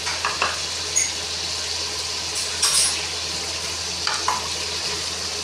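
Whole spices with red chilli, turmeric powder and salt sizzle steadily in a pan, a constant frying hiss with a few brief scraping stirs and clinks scattered through, close and alone.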